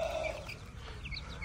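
A hen clucking nearby in a Pakistani village, a few short throaty calls over low background noise.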